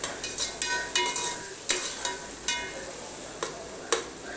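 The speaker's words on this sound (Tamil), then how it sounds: "பட்டை பூ இதெல்லாம் போட்டுக்கலாம் கொஞ்சம் நேரம் வதக்கிடலாம் அந்த ஆனியனோட ரா ஃப்ளேவர் போகிற வரைக்கும் வதக்கிட்டே இருக்கலாம்" Onions sauté with cinnamon and whole spices in a pan for chicken biryani, a gentle sizzle punctuated by regular spatula scrapes about twice a second, close and clear, with no speech.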